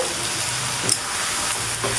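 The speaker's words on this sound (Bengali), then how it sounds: "শুকনো মরিচের বাটাটা আমি ভেজে নেই তেলের মধ্যে" Dried chili paste frying in oil in a pan for a dried-fish bhuna, a steady close sizzle with occasional stirring scrapes, no voices.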